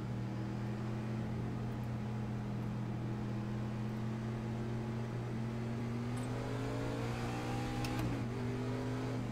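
Race truck engines in the iRacing sim, a steady low drone with rising revs from several trucks running behind a pace car, continuous and moderately loud with no talking.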